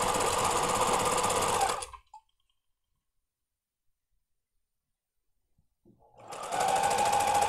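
Sewing machine stitching the seam of a knit pencil skirt, a rapid rhythmic mechanical chatter for about two seconds, stopping into silence for four seconds, then starting up again close and steady.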